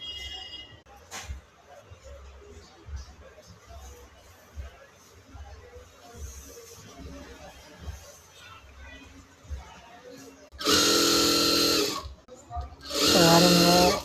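Sewing machine stitching the edge of a butterfly saree in a tailoring shop, two loud buzzing bursts near the end after a stretch of quiet handling noise and talk.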